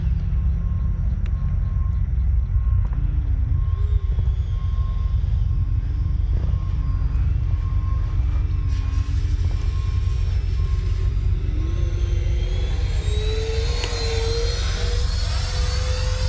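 A Freewing JAS-39 Gripen RC jet flying, its electric ducted fan giving a steady whooshing whine that rises in pitch, carried on over constant outdoor wind.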